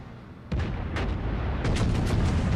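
Battleship guns fire at the North Carolina in World of Warships, with a deep boom bursting in sharply after a low rumble and a second heavy blast following, leaving a loud, rolling roar.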